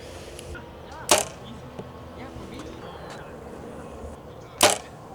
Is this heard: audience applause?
no